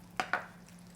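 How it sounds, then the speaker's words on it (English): Two quick knife chops cut blanched octopus into bite-sized pieces on a board for Korean spicy stir-fried octopus, each a short sharp thud close by, with a low steady hum underneath. "Let's cut this to bite-sized pieces."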